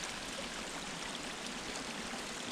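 Stream water at a trail crossing on the Pinhoti Trail, a steady broadband rush of flowing water with no voices, even and continuous throughout.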